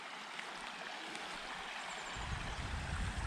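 Continuous gurgle and rush of the shallow, creek-like Buffalo River beside a campsite in Australia, a steady close wash of water that grows slightly fuller and deeper toward the end.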